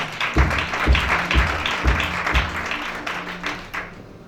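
A church crowd at a conference in Libreville claps and cheers in praise of Jesus, with a steady rhythmic beat of about five strong claps under a busy wash of voices and applause.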